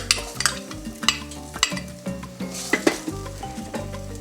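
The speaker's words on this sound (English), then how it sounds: "I'm gonna saute this just lightly for just a couple of seconds" Garlic, onion and chile sizzle in olive oil in a pot, a steady close frying hiss broken by repeated stirring scrapes and clinks of a utensil against the pot.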